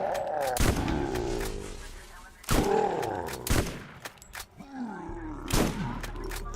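Bursts of gunfire in the shooter game Borderlands, several loud sharp shots spaced through the clip, with someone talking over the action.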